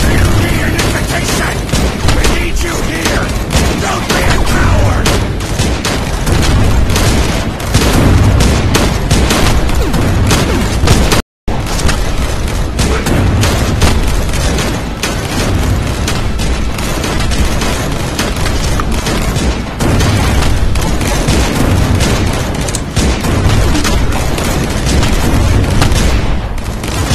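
Mortar and artillery fire in the VR game Cactus Cowboy, a dense, loud, continuous barrage of booms and blasts with a brief cut near the middle, with shouting voices mixed in.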